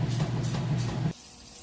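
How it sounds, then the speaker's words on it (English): Kenmore washing machine filling with water for its rinse cycle after draining, a steady rushing inflow with a low hum that cuts off sharply near the end, leaving quiet. "So it's drained, now it's filling back up."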